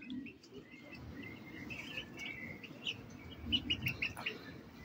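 Young pigeons in a breeding loft give faint, high squeaky calls in scattered bursts over a steady background hiss, growing a little busier toward the end.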